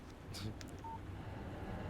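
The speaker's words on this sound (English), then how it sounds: "Text message from Barry." A short electronic text message notification tone from a phone in the video game Alan Wake, a faint synthetic blip sounding once amid low background hum, with no talking.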